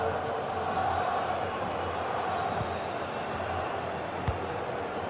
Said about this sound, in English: You can sense how annoyed the crowd are.